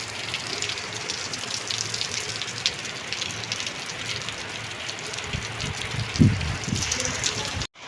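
Heavy rain during Cyclone Fengal in Chennai, a steady dense hiss of falling water, near and continuous, with a brief louder splash near the end.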